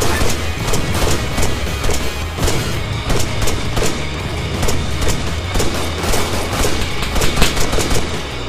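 Sustained assault rifle fire in the military shooter Arma 3, a dense stream of sharp, loud cracks and bursts with heavy booms mixed in, continuing steadily throughout without speech.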